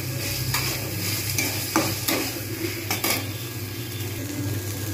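Tomato, ginger and garlic get stirred into spices frying in a pan, with a steady close sizzle broken by repeated scraping and clinking of a spoon against the metal.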